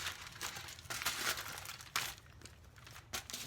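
Aluminum foil crinkles and rustles in steady bursts as St. Louis spare ribs are wrapped meat side down at the grill, with sharper crackles around the middle and end, close and moderately loud, no voices.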